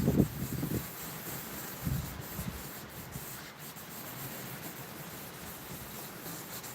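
Velcro-backed 1000 grit sandpaper worked in circular motions on a Honeywell Turbovisor DTVR, a soft, steady rubbing hiss with a couple of brief louder knocks near the start.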